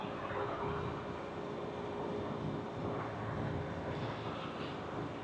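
An HVAC outdoor unit's fan motor and compressor run together in a steady, low, broadband hum and whoosh, continuous and fairly quiet, with no talking.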